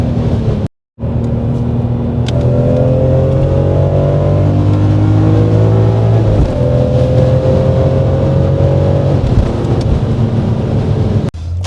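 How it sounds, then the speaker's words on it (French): A BMW M3 E46 engine revs while driving, a loud, steady close-up drone whose pitch climbs and dips across several throttle pulls, with a brief cut near the start. "Monsieur Brahms me laisse la chance aujourd'hui de conduire une M3 E46"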